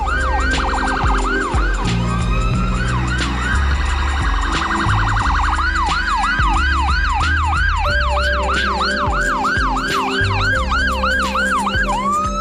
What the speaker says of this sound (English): This creates a clear passage for the ambulance to get through quickly and safely.